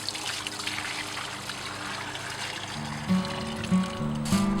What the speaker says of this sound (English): I scrubbed the pond and rinsed with hot water.